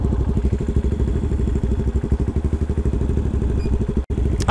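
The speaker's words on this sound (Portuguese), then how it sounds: "Se a minha moto passou" Brand-new Honda Bros 160 motorcycle crossing a river, its single-cylinder engine chugging in a steady rapid pulse with splashing and clatter, close by, a sharp dropout near the end.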